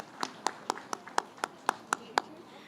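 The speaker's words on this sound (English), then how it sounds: "Let's give them another round of applause for leading us this morning." A small outdoor audience at a senior center grand reopening applauds a church choir with sparse, distinct claps, about nine evenly spaced sharp hand claps at a moderate distance.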